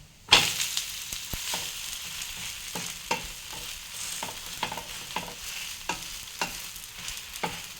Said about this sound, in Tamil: இப்போ திருப்பி போடுறேன்